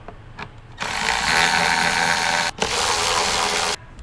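A tool runs on the 10mm headlight bolts of a Lexus GX470 as a continuous, close, loud buzzing whir. It runs for about three seconds with one short break.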